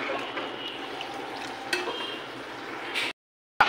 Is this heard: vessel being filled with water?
yes